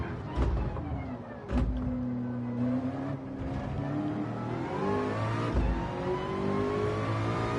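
A Ford GT's engine revs hard under acceleration while racing a Supra, with a rising drone that climbs in pitch through the gears and brief breaks at the shifts, loud and steady.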